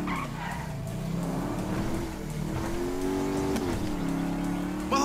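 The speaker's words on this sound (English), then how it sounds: "That's a monster fucking bike you riding" A big 140-cubic-inch motorcycle engine in GTA 5 revs and drones nearby, its pitch rising and falling steadily with some tire noise and no talk.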